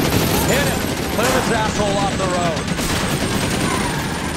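Sustained gunfire from the video game L.A. Noire, a dense, loud stretch of shots running the whole time beneath someone talking.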